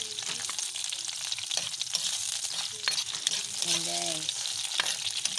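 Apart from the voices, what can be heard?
crab cooking, frying in hot oil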